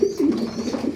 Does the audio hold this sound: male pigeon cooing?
yes